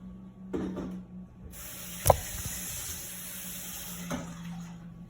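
A tap gushes into a sink with a steady broad hiss, a clunk partway through, then the flow continues evenly, close and moderately loud.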